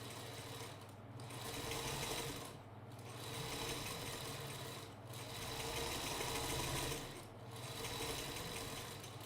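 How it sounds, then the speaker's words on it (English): A sewing machine stitches steadily along a drawn line on fabric for a gnome project, its rapid mechanical whir running in several even bursts separated by brief pauses, close and fairly quiet. "I'm going to sew directly on the line that I just drew"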